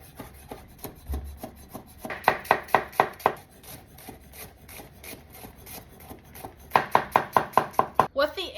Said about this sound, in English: quarter, flick the seeds out, and then dice the flesh.